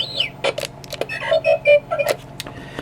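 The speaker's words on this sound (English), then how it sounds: "now it'll play droid beeps on key up" Quick electronic droid beeps and warbling chirps from a 2019 toy box, in a rapid, irregular string, close and clear like a robot chattering, with short gaps between bursts.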